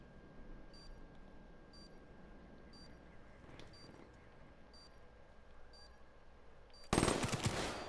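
Gunfire in a first-person shooter match, a sudden loud burst of rapid shots near the end after a stretch of quiet ambience broken by faint, evenly spaced beeps.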